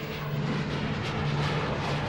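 The Oxcart stealth spy plane passes over as a steady, loud, broad roar of aircraft engine noise with no break, filling the short stretch.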